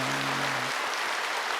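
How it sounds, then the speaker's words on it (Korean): A church congregation applauds the choir, a steady wash of many hands clapping that fills the sanctuary, briefly overlapping the fading tail of a sustained tone before continuing alone. "이제 지금 박수 한번 합시다."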